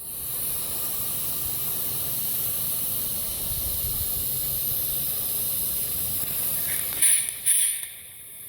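A live steam model locomotive hisses steadily as its throttle opens, a continuous close spray of steam that runs throughout and sputters with a few bursts near the end.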